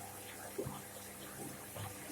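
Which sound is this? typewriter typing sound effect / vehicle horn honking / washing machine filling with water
washing machine filling with water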